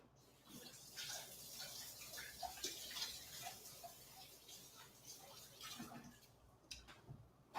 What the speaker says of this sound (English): I am going to wash my hands though